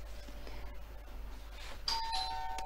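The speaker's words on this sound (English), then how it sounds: "Now it's a doorbell." A doorbell chimes two clear electronic tones near the end, ringing out over a low steady background hum.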